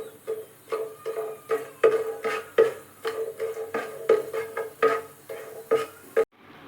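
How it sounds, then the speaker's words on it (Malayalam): Small pieces of cinnamon, star anise, cardamom and cloves are stirred in hot oil in a pan for Kerala chicken curry. A utensil clinks against the pan in a quick, even rhythm of about a dozen close metallic taps. "നമുക്കിതൊന്ന് ഇളക്കാം."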